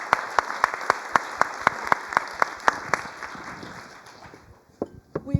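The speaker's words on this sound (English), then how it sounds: "And a big applause to the panelists." Audience applause for panelists closing a session at an energy policy conference: sharp, evenly spaced claps ring out for about four seconds over a light crowd wash, then fade as the hall quiets, with a couple of stray claps at the end.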